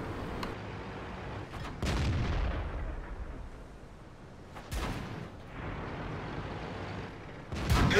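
An enemy tank's shell strikes the player's gun in a World of Tanks match at Prokhorovka, heard as several heavy booming impacts spaced a few seconds apart, each with a rumbling decay, fairly distant and muffled, with no talk.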